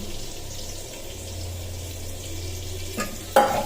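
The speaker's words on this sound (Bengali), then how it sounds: "বেগুন অল্প হিটেই ভাজবো" Eggplant fries slowly in oil over low heat, giving a soft, steady sizzle that runs throughout, with a brief louder clatter near the end.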